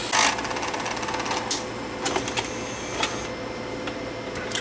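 Worn gears in the transport of a beat-up Sony DNW-A30P tape deck run with a rapid mechanical chattering whir, broken by occasional clicks and clunks, close up and with no voices.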